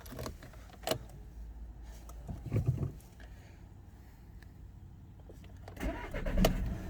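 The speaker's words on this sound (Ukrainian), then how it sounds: "Автомобіль заводиться з півоборота, працює рівно, стабільно, справно" A Volkswagen Golf 6 engine cranks and catches, then settles into a low, steady idle with a brief rev and a few clicks near the end.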